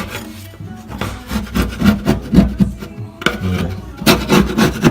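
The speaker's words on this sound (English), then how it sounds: "And you just basically scrape out the rest of the caulking." Caulking being scraped out of backsplash tile with a hand tool, giving repeated close, loud rasping strokes in an uneven rhythm with short pauses between bursts.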